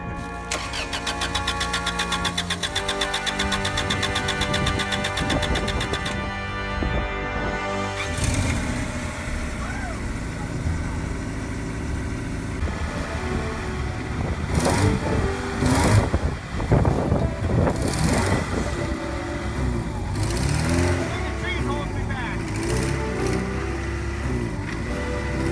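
A Honda Accord ute that has sat unused for a year cranks with a rapid whirring starter, then its engine catches and runs roughly, revving unevenly close by.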